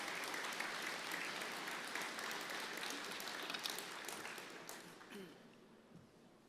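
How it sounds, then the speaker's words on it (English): Convention audience applauding board members at the SARM Annual Convention, a sustained wash of clapping from a large hall that gradually thins and fades out over several seconds. "Let's give our board members a round of applause."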